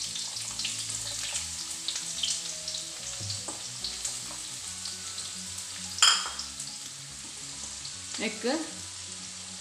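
Long-cut onion fries in ghee in a pan for chicken sukka, a steady close sizzle broken by a few sharp metallic clinks and stirring scrapes, with a brief spoken word.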